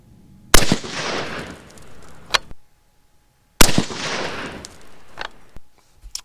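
Two sharp, loud 6.5 Creedmoor rifle shots fired outdoors with Reloader 16 loads behind a 130-grain ELD-M bullet, each a sudden crack followed by a long rolling echo that fades out over a couple of seconds.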